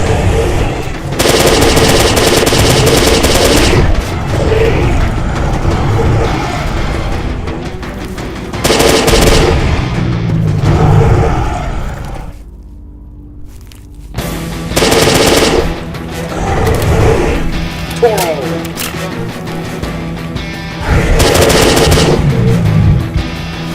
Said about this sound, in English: STG-74. Loaded with AP rounds.